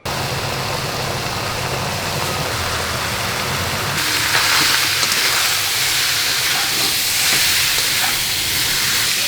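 Pork fat frying in its own rendered oil to make lard gives a loud, continuous broadband sizzle that swells and grows brighter partway through, with no talk over it.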